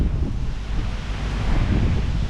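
Gusty wind buffets the microphone outdoors in Melbourne, a loud, rumbling low roar that rises and falls without pause.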